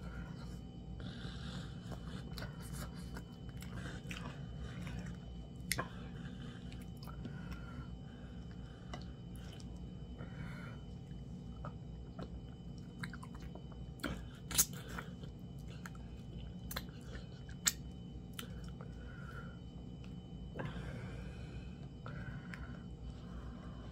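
Close-up eating of fufu with warlo soup, with soft wet chewing and smacking and occasional sharper clicks over a steady low background, quiet and intimate.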